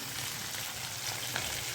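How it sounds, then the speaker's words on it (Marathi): A quiet, steady sizzle of chicken momos deep frying in oil, even and continuous, with a faint bubbling crackle throughout. "आता मी दाखवते तुम्हाला तळताना"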